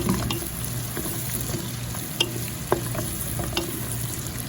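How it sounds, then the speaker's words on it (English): Bacon and sausage sizzle steadily in a pot as the fat renders, a close continuous crackle and hiss broken by a few sharp pops and the scrape of stirring. "the bacon and the sausage are almost rendered."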